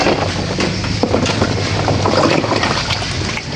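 A steady fishing boat engine drones under wind and water noise out at sea, loud and continuous throughout.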